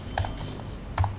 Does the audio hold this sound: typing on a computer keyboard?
yes